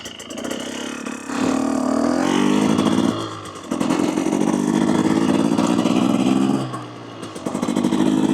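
A 2024 Husqvarna TE250 TBI dirt bike with an FMF Turbine Core 2.1 exhaust idles loud and close, a steady two-stroke burble that rises and settles in a few long swells.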